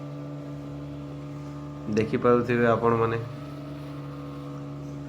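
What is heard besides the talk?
boat moving on water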